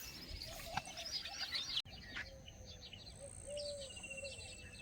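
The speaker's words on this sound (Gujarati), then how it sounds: "પક્ષીઓનો અવાજ સંભળાઈ રહ્યો છે." Birds chirp and call on a quiet farm in the morning, faint tweets and a few longer whistled notes from some distance, with soft insect buzzing underneath.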